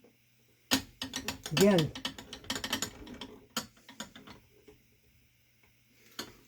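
A ratcheting screwdriver turns a CPU cooler mounting screw on an AMD AM4 install, making a close burst of rapid clicking pawl ticks with a brief spoken word, then scattered quieter clicks and a final tick.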